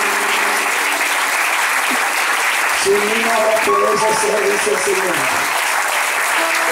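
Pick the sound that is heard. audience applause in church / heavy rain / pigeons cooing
audience applause in church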